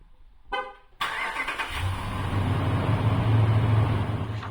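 A Ram 1500 pickup engine starting by remote start: a short chirp, then the engine cranks and catches, settling into a steady, close idle rumble.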